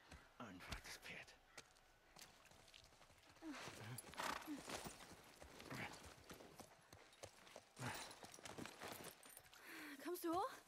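Game-like horse hoof clip-clops from The Last of Us patter through the clip beneath agitated overlapping voices, with brief whinny-like tones near the end.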